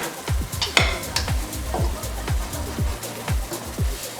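Food frying in a pan on raised heat while a utensil repeatedly scrapes and stirs across the bottom, giving a steady run of knocks and scrapes over a sizzling background.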